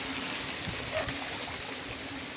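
Steady rushing floodwater flows continuously like a river after a full day of rain during a typhoon, a broad, full stream sound that stays close and unbroken throughout.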